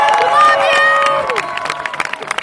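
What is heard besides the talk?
crowd applause and cheering at Hash Bash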